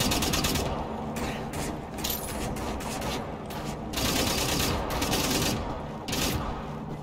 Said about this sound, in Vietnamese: Súng laser của mình á.